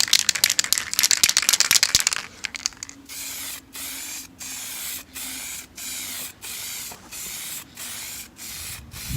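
TouchUpDirect spray paint is applied as a light base coat, with a can rattling briefly before a run of even, close hissing bursts separated by short regular pauses.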